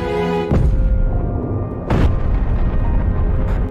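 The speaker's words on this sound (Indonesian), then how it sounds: "Dan membuat istri Doyung terpental jauh akibat ledakan itu" A bomb buried underground detonates in a drama scene: two heavy booming blasts with deep rumbling, cutting into background music.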